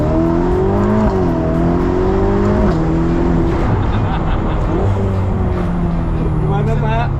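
Ferrari sports car driving in front of the Ferrari factory, its engine droning loud and close with shifting revs throughout, while people talk over it.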